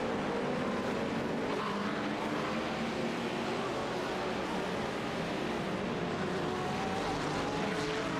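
Race cars, including a Porsche, roar past at the Zolder 24 Hours endurance race, a continuous loud engine drone with shifting pitch and faint commentary beneath.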